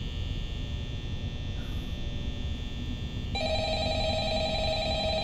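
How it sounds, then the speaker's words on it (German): A telephone in the night-watch office of Five Nights at Freddy's starts ringing partway through with a steady electronic tone, over a constant low humming hum. "Das Telefon läutet wieder."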